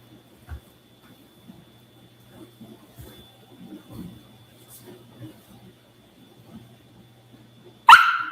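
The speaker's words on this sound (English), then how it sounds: "Now you got my guys in there barking" Bichon/Poodle mix dogs bark in a sudden loud burst at the very end, after a stretch of faint shuffling and quiet background sounds, during grooming.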